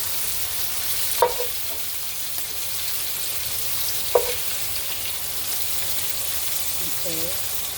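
Shrimp and vegetables frying in a stir-fry pan with shoyu, a steady soft sizzle throughout, broken by a couple of sharp utensil clinks and a brief stir near the end.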